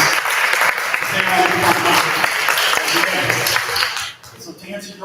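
Conference audience applause, a loud, sustained wash of many hands clapping that fades out near the end as a voice begins to speak.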